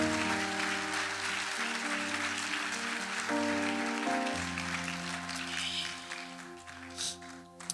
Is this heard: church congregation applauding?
yes